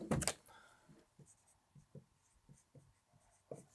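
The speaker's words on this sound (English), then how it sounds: "We'll write down nickel." Pen or pencil writing an element name on paper, a short run of soft, close scratchy strokes in quick bursts after a louder handling noise at the start.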